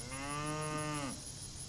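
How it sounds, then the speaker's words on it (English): A single long, low cow moo rings out clearly for about a second against a steady outdoor background hiss, then fades, leaving only the ambient noise. "I always got cows somewhere."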